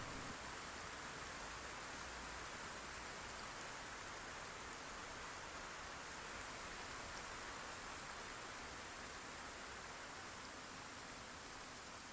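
Rain falls in a video game as a steady, even hiss that holds unchanged the whole way through, with no talk and no other sound.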